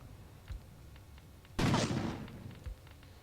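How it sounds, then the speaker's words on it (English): A regimental gun fires in the war game Graviteam Tactics: Mius Front, one sharp loud blast with a rumbling tail, set among fainter distant thuds and pops from other fire. "the regimental gun should start firing"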